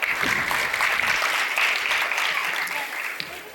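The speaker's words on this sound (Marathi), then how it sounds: "आणि परत एकदा जोरदार टाळ्या वाजूया" An audience at a school annual function claps hard, a dense and continuous burst of applause that fades slightly toward the end.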